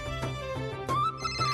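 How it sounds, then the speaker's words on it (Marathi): A mobile phone plays a melodic ringtone, a series of tonal notes repeating in a short pattern, clear and close with no talk over it. "आईचा फोन आलाय."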